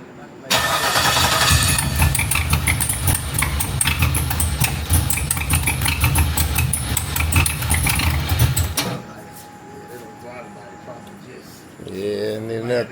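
An LS-swapped G-body Oldsmobile Cutlass cranks and fires, then runs loud and rough at close range for about eight seconds before cutting off, with people talking afterward.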